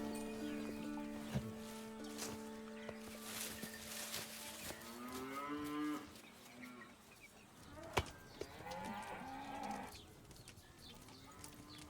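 A calf and a cow moo in a farm setting, several drawn-out lowing calls spread over twelve quiet seconds with faint background noise.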